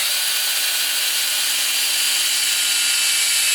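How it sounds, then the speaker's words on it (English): A power drill runs continuously at high speed, twisting wires together while fastening them on a snowthrower, a steady close whine lasting a few seconds with no talk. "And then run the drill up."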